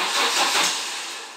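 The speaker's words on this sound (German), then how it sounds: "Beim ersten Versuch lassen wir den Motor nur kurz schnappen" An Audi GT 5S engine, just refitted with new valve stem seals, catches briefly during a first start attempt, giving a loud broadband burst that fades out after about a second.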